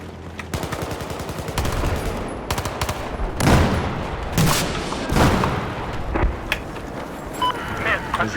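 Rapid bursts of carbine gunfire in Battlefield 4: Final Stand, map Hammerhead, repeated shots in clusters with booming impacts, loud and continuous over several seconds.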